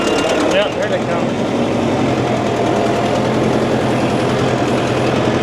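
A tractor engine runs continuously nearby on a goat farm, a steady mechanical rumble with a rapid chugging rhythm that holds throughout.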